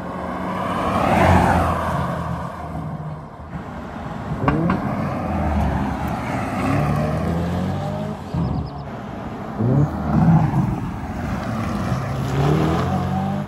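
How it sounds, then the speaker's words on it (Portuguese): A Hyundai Ioniq 5 N electric car passes with its simulated combustion-engine sound, a loud, rising and falling synthetic engine note that swells as it goes by, with no talk. "Quem não saiba qual é o carro, pensa que acabou de passar um carro a combustão, sem dúvida nenhuma."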